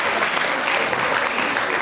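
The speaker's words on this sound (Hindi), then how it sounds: "तालियां बजाइए इनके लिए" Audience applause at a college quiz show event fills the clip, a steady, dense wash of clapping from a crowd with no gaps.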